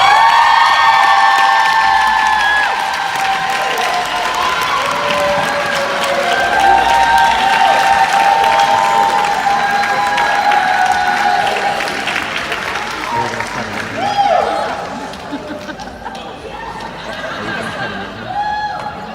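A theater audience at a film reunion Q&A claps and cheers loudly in sustained applause with scattered whoops, easing off slightly toward the end.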